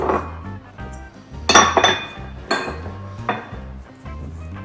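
Egg whites being whisked by hand into almond batter in a bowl, with vigorous clinking and scraping strokes against the bowl in uneven bursts, close and loud, over a low background hum.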